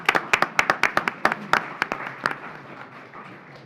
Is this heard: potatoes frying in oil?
no